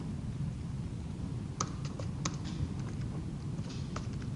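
Scattered keystrokes on a computer keyboard, a handful of light clicks spread irregularly under a steady background hum.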